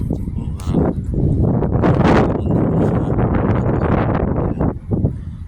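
Strong wind on a hot day buffets the microphone in loud, roaring gusts that rise and fall for several seconds.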